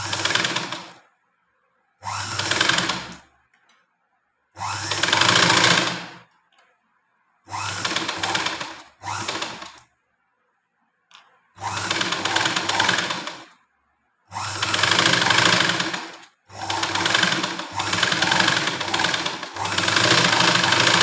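A sewing machine stitches blouse fabric in repeated short bursts, each a second or two of rapid whirring needle chatter separated by silent pauses, close and clear with no voices.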